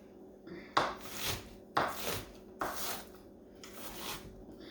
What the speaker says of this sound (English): so I chop mine up